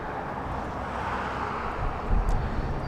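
A SkyWest Embraer E175 jet passes at Los Angeles International Airport, heard as a steady broadband roar with wind buffeting the microphone, swelling slightly near the end.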